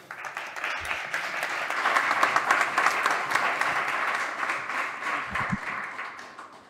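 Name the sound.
audience applause for welcome speaker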